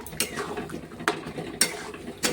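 Moong dal with jackfruit being stirred and sautéed in a pan: a quiet sizzle broken by a few sharp metallic scrapes and clinks of a spoon against the pan, close up, with no talking.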